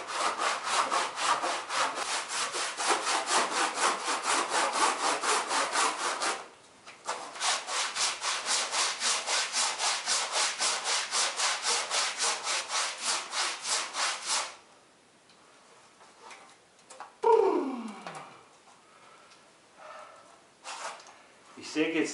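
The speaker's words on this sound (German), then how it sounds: "Ich säge jetzt hier ungefähr eine Stunde mit kleinen Verschnaufpausen" Rapid, steady back-and-forth strokes of a hand saw biting through a wood burl, pausing once briefly, then stopping before a quieter stretch with faint scattered sounds.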